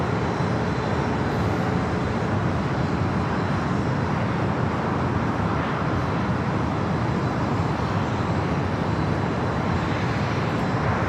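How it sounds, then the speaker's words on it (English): A heavy Boeing 777 jet departs an LAX runway, its broad, steady engine roar holding loud and continuous throughout with no voices over it. "heavy 777 departing the inboard"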